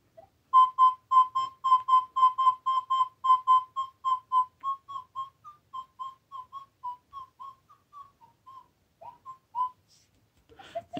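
Quasar ARM metal detector with a new coil sounding over a copper ring: a rapid train of short, clean whistle-like tone beeps that stutter, then slow into wavering, dipping pitches as it tails off, alone and fairly loud.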